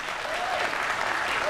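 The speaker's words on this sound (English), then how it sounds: "give them a round of applause" Steady applause from a cruise show audience for the casino dealers, dense and continuous throughout, with some crowd noise mixed in.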